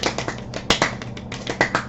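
A quick series of close, sharp finger snaps given as applause, irregular and fast-paced, with no voices.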